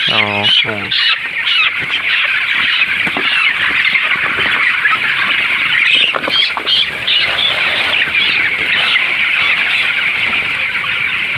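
Broiler chickens cluck continuously in a busy farm flock, close and loud, with a sharper call near the start.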